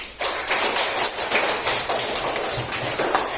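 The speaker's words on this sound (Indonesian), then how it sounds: "Tepuk tangan buat kita semua." Students applaud together in a classroom, a burst of brisk, fairly loud clapping that starts abruptly and keeps up as a dense patter before slightly thinning out.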